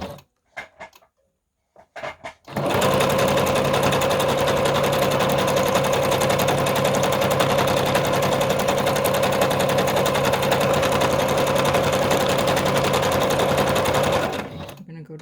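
A sewing machine runs a straight stitch on a small collage card piece with lighter thread, a steady continuous mechanical whir that starts after a few faint handling clicks and runs unbroken for about twelve seconds before stopping.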